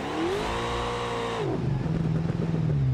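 An all-wheel drive van in a racing video game revs hard, its engine note climbing steadily then dropping as it shifts, followed by a rough, lower grumbling drone with wheelspin and no grip, loud and close with no talking.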